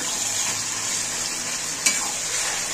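Chicken pieces being stirred as they fry with onions in a pan, a bright continuous sizzle with a single sharp utensil scrape near the end, close with no talk.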